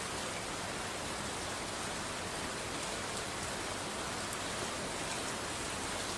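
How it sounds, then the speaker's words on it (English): Steady rain from Stardew Valley hisses evenly and continuously for the whole stretch, a dense, unbroken wash of falling drops with no voices or other sounds over it. "It's just gonna be a Stardew Valley rain sound effect"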